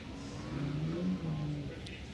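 A Nissan 370Z race car in NOS Energy Drink livery on Nexen tires revs and accelerates on a race track during qualifying, the engine fairly distant and rising in pitch, with a commentator talking over it.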